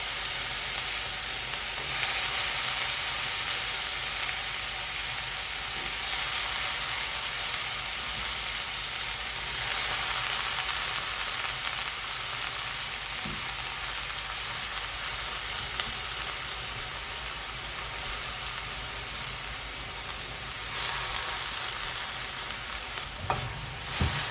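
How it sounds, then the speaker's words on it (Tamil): Carrots and beans sauté in a hot pan with a steady, close sizzle and soft stirring that runs evenly throughout with no talking. "கேரட் பீன்ஸ்லாம் போட்டு வதக்கிக்க வேண்டியதுதான்"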